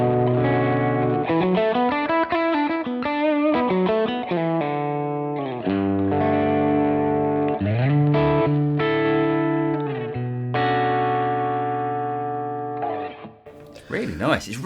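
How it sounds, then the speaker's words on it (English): A Chandler GAV 19T boutique guitar amp set to a clean tone on the verge of breakup plays a lively electric guitar phrase of chords and single notes, close and full, with slight grit and ringing sustain. "we've set it up with what Paul is going to refer to as a clean on the verge of breakup tone"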